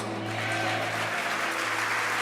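A church congregation applauds steadily, a dense continuous patter of many hands clapping at even loudness, with a low hum underneath.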